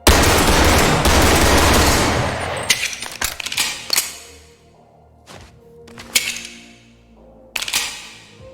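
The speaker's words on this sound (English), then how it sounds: "God, the freaking powerful sounds of these guns." Loud bursts of realistic gunfire from the video game Bonelab: a sustained rapid volley up front, then sharp separate shots with metallic clicks and clanks between them, close and with no talk.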